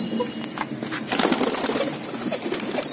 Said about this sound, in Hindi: लो भाई जी सब बॉर्डर के कबूतर है, देखो बहुत ही अच्छी क्वालिटी में भाई जी सब कबूतर।